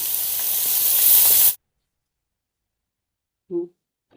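Okra pieces dropped into hot oil for a bendakaya masala curry give a loud, steady sizzling hiss for about a second and a half, then cut off abruptly; a brief voice sound follows near the end.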